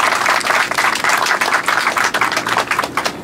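A hall audience gives loud, sustained applause to honorees at a Fukuoka city mayor's awards ceremony for flower and greenery community work, thick continuous clapping throughout with no voices.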